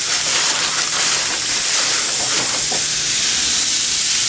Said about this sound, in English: Cooking them about 5 minutes on each side, give them a good sear.